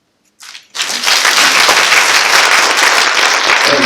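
An audience at a city aldermen's public hearing on medical marijuana bursts into loud, sustained applause, a few early claps swelling quickly into a dense wall of clapping that carries on to the end.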